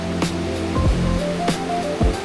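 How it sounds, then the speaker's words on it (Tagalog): A strong, rushing current pours continuously at Hulogan Falls, loud and close. Several whooshing surges rise over the roar, and no one speaks. "Pero maagos talaga siya."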